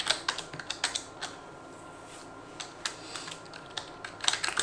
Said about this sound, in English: So let's type this game plan out here.